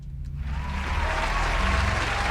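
A round of applause, a steady, moderately close wash of clapping that swells in over the first half-second and continues evenly, with no talk over it.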